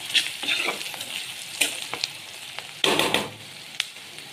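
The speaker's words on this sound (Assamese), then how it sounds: "অলপ এনেকৈ ফ্ৰাই হ'বলৈ দিম।" Cumin powder fries with onions and spices in a pan, a soft sizzle broken by scraping stirs and louder bursts of frying, heard close with no talking.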